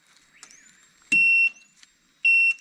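A built-in alarm on a solar electric fence signals a fault, giving thin electronic chirping tones and two loud, harsh buzzing bursts about a second apart.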